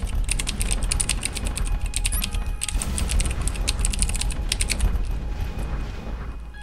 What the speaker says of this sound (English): I was typing into the chat